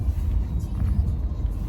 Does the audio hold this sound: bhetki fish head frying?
no